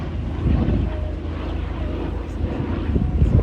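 A Douglas C-47 propeller aeroplane drones steadily overhead at an air show, a low rumbling engine hum filling the clip at an even, moderately loud level.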